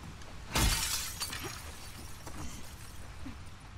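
Glass shatters loudly in The Last of Us Part II, a single sharp smash with scattered falling shards tinkling afterward against a hushed game ambience.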